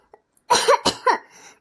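Cartoon voice of an ill, coughing person, a short close burst of three hoarse, chesty coughs trailing into a faint breathy wheeze.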